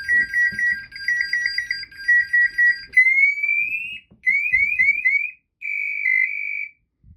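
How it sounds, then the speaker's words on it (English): A firefighter's SCBA PASS alarm chirps in repeated bursts, then goes into full alarm, rising into a continuous high-pitched warbling tone that sounds in broken, insistent pulses. "You can hear a pass alarm start to engage, and right about that time, we can hear it go into full alarm."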